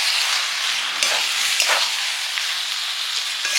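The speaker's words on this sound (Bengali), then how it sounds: "এখন আমি একটু সর্ষে বাটা দিয়ে দিলাম।" Mustard paste goes into a simmering fish curry, producing a continuous bright sizzling hiss with a few brief bubbling bursts.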